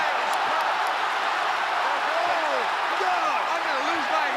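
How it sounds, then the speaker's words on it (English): A packed wrestling arena crowd roars in a loud, continuous wash of cheering, with a nearby voice talking over the noise. "The crowd is so loud."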